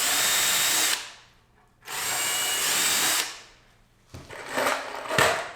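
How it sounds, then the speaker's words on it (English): A power drill bores pilot holes into wood for a bow hanger, two sustained loud whirring bursts about a second apart, followed by shorter rattling, uneven drilling and a sharp knock near the end. "I can pre-drill the rest of my holes."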